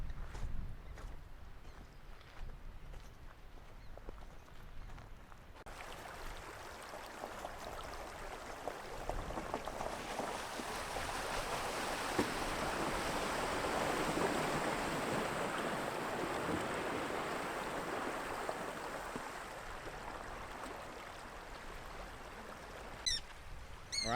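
A Suzuki Grand Vitara fords a river on Rees Valley Road. After a quiet start, a loud, continuous rush and splash of water builds and holds for most of the clip, with no talking.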